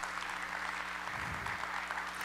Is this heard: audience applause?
yes